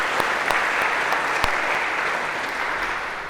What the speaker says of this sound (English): Or maybe a round of applause to break the ice for these 2.